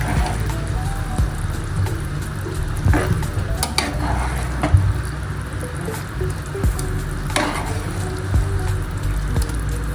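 Thick, sweet mango pickle bubbles in a pan, sizzling steadily with soft wet pops while a spoon stirs it in occasional scraping strokes, close and continuous.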